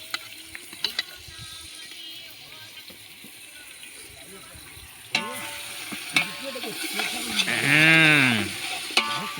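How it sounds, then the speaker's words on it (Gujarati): Onion frying in oil for chana dal at an outdoor farm cookout, a constant sizzle under loud, lively talk, with clattering stirs and a brief tonal whine near the end. "જ્યાં સુધી લાલ ના થાય ત્યાં સુધી એને કકડવા દેવાનું"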